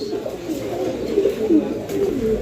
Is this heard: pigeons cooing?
yes